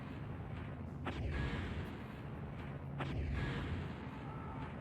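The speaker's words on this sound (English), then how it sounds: "There are 2 artillery pieces that are actually shooting at me, if I am not mistaken." Artillery pieces fire in the DOS strategy game Spellcross, two dull booms about two seconds apart over a low continuous rumble, moderately loud.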